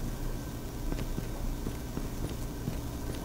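Footsteps in Call of Duty Mobile sound from the left side, a steady run of quiet thuds set under a dense layer of background game noise.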